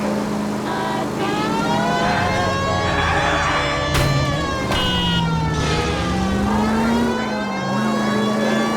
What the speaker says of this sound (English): Why aren't you using the siren?